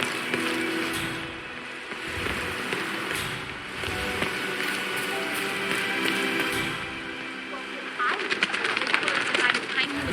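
Pigeons or doves cooing in the Hitman video game, steady soft calls mixed into a busy ambient game soundscape with a dense background hum throughout.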